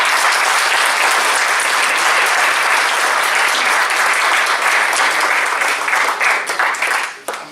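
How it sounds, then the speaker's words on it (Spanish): Sustained, loud audience applause at a formal anticorruption legal framework event, dense clapping at a steady level that fades out near the end with no talk over it. "Le damos un fuerte aplauso."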